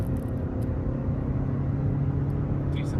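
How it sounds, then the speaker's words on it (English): A 2016 Kia Sorento with a 2-liter turbo engine drives along a hilly, curving road, giving a steady low engine drone and road rumble from inside the cabin, constant and moderately loud. "Decent throttle response out of the 2-liter turbo."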